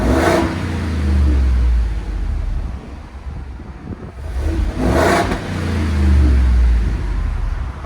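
A 7.3L gas V8 with its exhaust resonator deleted is revved twice in quick bursts, each swelling into a deep, loud roar and then dropping back to a rumbling idle, with some wind noise on the microphone.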